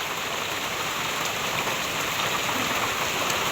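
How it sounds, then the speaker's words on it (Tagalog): Heavy rain pours down steadily, a dense, even hiss of drops with no pauses, close and constant. "Talaga pong sobrang ulan na po."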